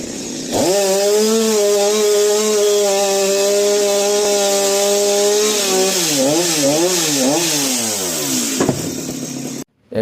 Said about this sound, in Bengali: এখানে তিনটা গাছ আছে, কিভাবে কাটে কাটছি তোমরা দেখো